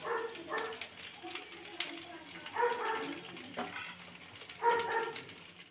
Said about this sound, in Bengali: বাড়িতে না কুকুর আছে, ওই জন্যই সব সময় ঘেউ ঘেউ ঘেউ ঘেউ করে।